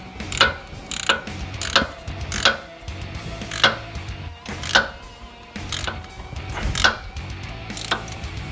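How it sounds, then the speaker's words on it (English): A hand ratchet with a 7/16 socket tightening bolts on a Craftsman mower, with sharp ratcheting clicks repeating about every second, close and clear with no talk. "You're going to need a 7/16 socket to tighten up both of these in place."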